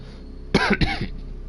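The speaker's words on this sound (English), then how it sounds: "I'm still coughing a bit" A sick person coughs twice in quick succession, two short harsh bursts close to the microphone against a quiet background.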